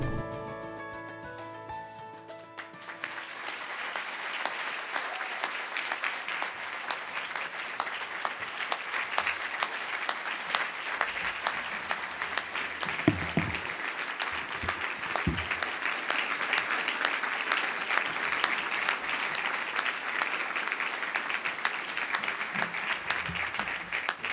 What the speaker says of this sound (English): another round of applause for our honorees, the Virginia Legislative Black Caucus.